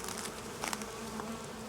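Honey bees buzzing around a hive entrance on a fine day, a dense steady hum close by with a few louder passes, no voices.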